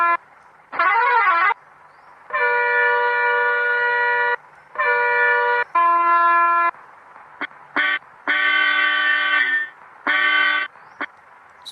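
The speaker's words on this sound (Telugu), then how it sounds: "స్టీరింగ్ హారన్ సౌండ్ సేమే ఉంది." Bus horns from the Bus Simulator Indonesia game play in turn, loud electronic tones and musical multi-note blasts separated by short gaps, over a low steady engine hum.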